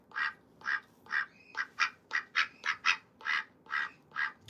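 A pet duck named Olivia quacks in a steady series of about a dozen evenly spaced, fairly loud quacks close by, with no talking over them.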